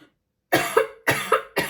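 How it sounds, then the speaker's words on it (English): Four sharp, close coughs come in a quick, fairly even rhythm after a moment of silence. "I'm sorry for the cough."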